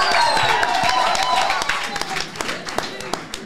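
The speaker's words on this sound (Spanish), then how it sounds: "Un aplauso para el Piripituchi." Scattered clapping from a small group on a casual podcast set, sharp hand claps mixed with overlapping chatter and laughter, fairly close and uneven, thinning out toward the end.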